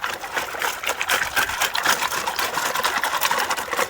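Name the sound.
water washed through creek gravel while digging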